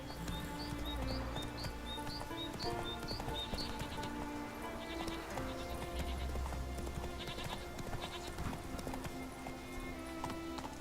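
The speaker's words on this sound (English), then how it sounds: "Hey, Roach. Giddy up." Roach, a horse in The Witcher 3 video game, gallops with steady rhythmic hoof clip-clops over game music and ambient sounds, with a few short high chirps early on.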